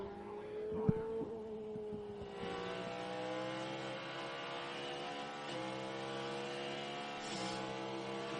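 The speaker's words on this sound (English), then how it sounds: "tires that go on to the BMW M Team RLL machines as off and away they fire." BMW M Team RLL race cars pull out of the pits at Road America during an IMSA race, engines droning and climbing in pitch as they accelerate away, with a sharp knock early on and no talking.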